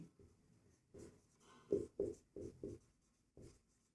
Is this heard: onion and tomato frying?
no